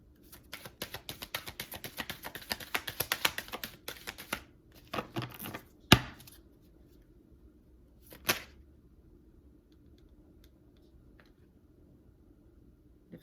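A thick tarot deck shuffled in two halves: a rapid run of riffling card clicks for about four seconds, then a few separate taps and one sharp snap, with scattered faint handling sounds afterward and no talking.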